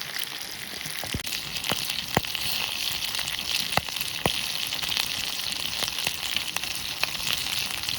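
Onion sizzles and caramelizes in a pan in spare rib fat over a campfire, a steady close frying hiss with occasional sharp pops and crackles scattered throughout, no talk.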